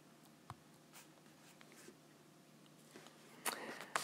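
A pen drawing a line on a graph gives a faint scratchy stroke, with soft taps and scratches scattered through a quiet room and a brief stronger scribble near the end.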